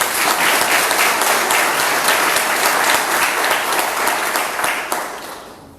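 A church congregation bursts into sustained applause, dense steady clapping from a large crowd that holds loud for about five seconds before starting to thin out at the end.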